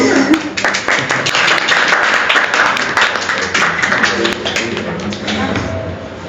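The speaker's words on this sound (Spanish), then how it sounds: "Ahora sí, aplausos." An audience claps for a group after a presentation, a few seconds of close, fairly loud scattered hand claps with some taps and thuds, steady throughout.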